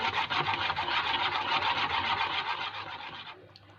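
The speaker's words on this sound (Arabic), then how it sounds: "هنا بقى انا قلبت التتبيله فيها كويس قوي" Liver is stirred with a lemon and vinegar marinade in a bowl, giving a continuous wet, rubbing scrape close up that stops near the end.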